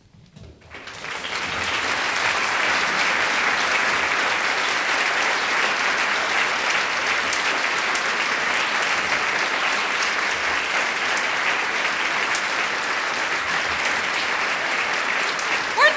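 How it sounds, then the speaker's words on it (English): Studio audience applause for a television program's cast swells in within the first two seconds, then holds as a steady, even wash of clapping until the end. "give them a warm round of applause"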